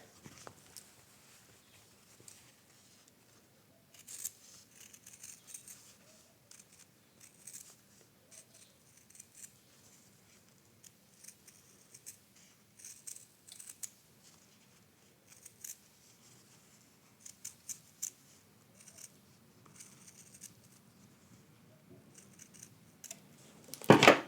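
Scissors cutting a fleece heart shape for raw-edge applique, a series of quiet, close snips in irregular bursts separated by pauses, with a louder clatter at the end and no talking.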